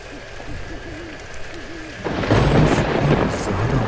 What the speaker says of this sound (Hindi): बारिश बहुत ज्यादा बढ़ गई थी और बिजली भी बहुत तेज कड़क रही थी